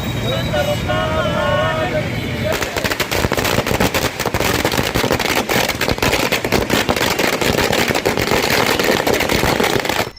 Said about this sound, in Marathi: आज टावर चौकात आम्ही फटाके फोडून त्याचा आनंद व्यक्त केलेला आहे